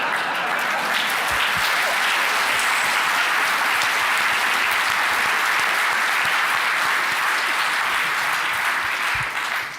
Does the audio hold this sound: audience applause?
yes